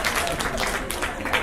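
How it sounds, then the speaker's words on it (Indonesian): A seminar audience in Surabaya breaks into brief, moderately loud applause with a murmur of crowd noise mixed into the clapping. "Oke, berikan tepuk tangan untuk videonya."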